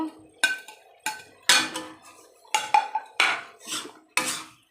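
Fried lentil dumplings stirred into cooking pui shak greens with eggplant, a series of sharp metal spoon knocks and scrapes against the pot, about eight distinct strikes in an uneven rhythm, close and clear.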